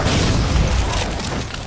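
A grenade explodes in the Halo 4 video game, a loud, dense burst of rumbling blast noise that holds for over a second and then slowly eases off.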